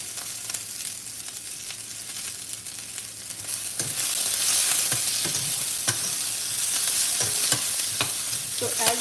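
A Bengali fish curry gets stirred in a pan, with a steady sizzle and a scraping spoon clicking now and then. The sound grows louder about halfway through.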